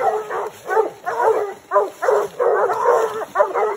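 Hunting dogs bark during a night raccoon hunt, a rapid run of close, loud, yelping barks in an uneven rhythm, one after another with short gaps.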